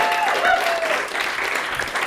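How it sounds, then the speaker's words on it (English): Audience at a Toronto stand-up comedy special breaking into steady, dense applause that carries on for a couple of seconds, a crowd of clapping hands filling the room. "Round of applause for yourselves for coming tonight."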